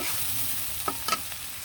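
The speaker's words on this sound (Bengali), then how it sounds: "পেঁয়াজটার মধ্যে কিন্তু আমি এখন টমেটোগুলো দিয়ে দিব টমেটোগুলো দিয়ে ভালো করে লাড়াচাড়া দিয়ে দিব" Tomatoes stirred into onions frying in a pan, a constant hissing sizzle with a few scraping strokes of the spatula near the end, close and fairly loud.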